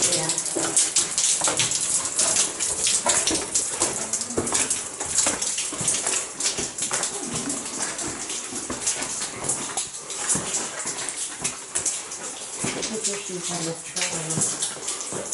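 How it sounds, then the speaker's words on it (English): A small underground river flows through a cave, giving a continuous, loud, hissing rush of water that fills the space without pause. "See our teeny tiny river coming right down here?"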